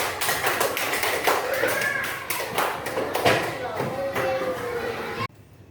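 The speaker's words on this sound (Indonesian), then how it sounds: "tepuk tangan untuk kelompok 4" Classroom applause for a student group, dense rapid claps from many hands filling the room at steady loudness for about five seconds, then cutting off abruptly, with children's chatter mixed in.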